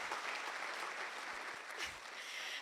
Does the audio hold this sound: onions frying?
no